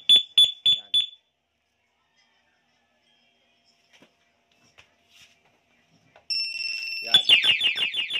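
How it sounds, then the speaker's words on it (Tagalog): A two-way alarm on a Yamaha Mio 125 motorcycle gives four quick, loud, shrill beeps, then after a quiet gap breaks into a continuous piercing siren with rapid warbling chirps. "Kasunod nun, mag-a-alarm na yung motor."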